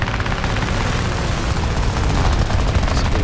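Enemy aircraft fire 20 mm cannon in War Thunder air arcade: a loud, dense, continuous rattle of rapid shots with a heavy booming undertone throughout.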